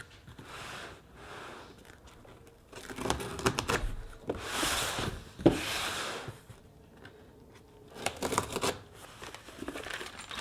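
Parts for a small downpipe on a widebody R56 Mini being unpacked, with bursts of crinkling, tearing and rustling packaging, a sharp knock midway, and quieter handling in between, close and fairly soft.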